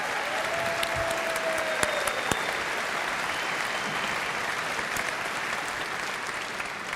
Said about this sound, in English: Can you just give her a round of applause